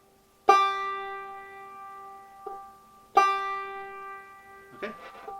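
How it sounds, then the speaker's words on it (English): Clawhammer banjo fifth string plucked while tuning to G, two clear ringing plucks with long decays, a softer touch between them and a brief scrape of handling at the end, close and alone. "And then the 5th string, we're going to tune it to G."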